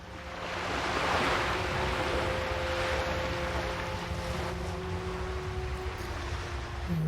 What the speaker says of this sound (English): Let's go ahead and enter this noisy water.